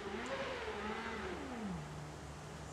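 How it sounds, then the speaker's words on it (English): A motorbike passes by outside, heard faintly from a distance as a revving engine hum that slides down in pitch as it goes past. "Dude on a motorbike."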